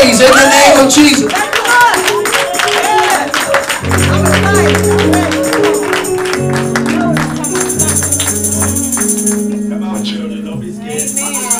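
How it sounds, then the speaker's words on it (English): A church congregation claps in praise during a twelfth-anniversary worship service. Steady rhythmic clapping runs throughout, mixed with organ or keyboard music and voices. "clap your hands and give them praise in the name of Jesus"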